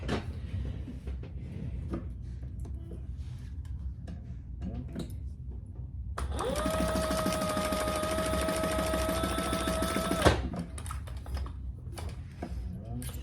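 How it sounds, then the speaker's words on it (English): A sewing machine stitching two pieces of fabric together for piping, a steady whirring mechanical run of about four seconds that starts and stops abruptly, framed by quieter handling noises. "I'm gonna sew down this way, and then that joins the 2 pieces"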